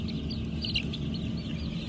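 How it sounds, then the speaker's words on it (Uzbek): A sick chick cheeps among a brood of young chicks on a farm: steady, high, thin peeps repeat over a constant low background rumble. "Mana kasal mana shu jo'ja."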